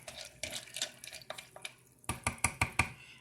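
Food in a crock pot is stirred with a spoon, a run of soft scrapes followed by a series of sharper clacks and knocks against the pot, close and without talk.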